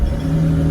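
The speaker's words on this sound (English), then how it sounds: "I'm revving the car" A 2010 Ford Falcon FG with a lack-of-power fault revs in drive with the handbrake and brake held, a short, close, steady engine roar.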